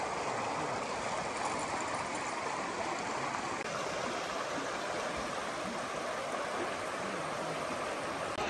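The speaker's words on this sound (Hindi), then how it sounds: "अच्छी आवाज़ आ रही है पानी की यहाँ पर।" River water flowing steadily in a stream near Fernie, British Columbia: a constant, close, full rushing and babbling with no pauses, heard alone with no talk.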